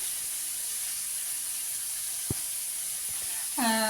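Paneer sizzles in a pan for fried rice, a steady bright hiss of frying that runs throughout, broken by a faint tap midway and a brief tonal whine right at the end.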